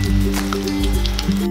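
Batter-coated gondhoraj chicken, just flipped, fries in a pan of oil on a low flame, giving a close, steady bubbling sizzle with a few brief sharper crackles.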